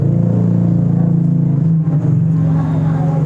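A vehicle engine fitted with an aftermarket exhaust, made in Purbalingga, idles with a loud, throbbing low rumble, then gives a quick rev near the middle before settling back to a steady drone.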